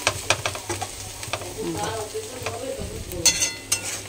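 An egg frying with spices in a pan that has meat cooking in it, giving a steady close sizzle broken by scraping and stirring clicks, with no talk.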